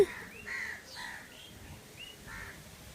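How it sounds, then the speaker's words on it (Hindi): Crows cawing outdoors at a dargah, a series of several harsh caws spaced over a few seconds, moderately distant and faint over soft ambient wind noise, with no talking. "हवा की आवाज़ सुनो, पक्षियों की आवाज़ सुनो।"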